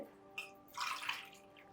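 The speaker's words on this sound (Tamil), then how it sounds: "நான் ஒரு அஞ்சு டம்ளர்லேருந்து அஞ்சரை டம்ளர் ஊற்றிக்கிறேன்" Water poured from a tumbler into a cooking pot for one-pot sambar rice, a quiet splash followed by a longer, louder gush, with no talk.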